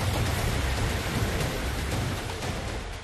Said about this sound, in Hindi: ये चीन में आए हुए सावला तूफान की तस्वीर है।